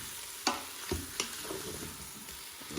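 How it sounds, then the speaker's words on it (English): Potatoes are stirred in an Instant Pot, giving a soft background sizzle with a few sharp scrapes and clicks from the utensil against the pot. "And then mix everything around a bit."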